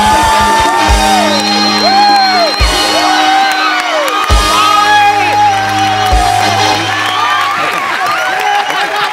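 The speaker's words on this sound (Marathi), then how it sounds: "एकदा जोरदार टाळ्या." Audience at a Marathi comedy stage show cheers, whoops and shouts loudly throughout an Employee of the Year award moment, with music playing underneath and a few claps mixed in.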